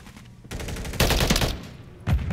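Holger 556 assault rifle fire in a first-person shooter game, three loud, close bursts of rapid automatic shots separated by short pauses.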